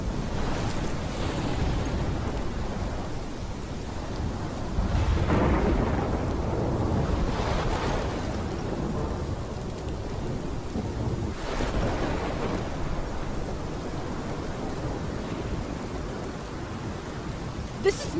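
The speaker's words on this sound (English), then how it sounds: "This is my storm!" Thunderstorm in the video game Life is Strange, with deep rolling rumbles of thunder swelling and fading over a steady roar of rain and wind, several heavy surges across a long stretch with no talking.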